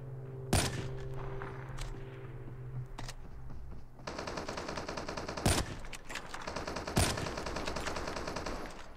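Rapid automatic gunfire from the mobile shooter game Call of Duty Mobile, with a steady rattle of shots and several sharper, louder bursts standing out against continuous game noise, with no talking.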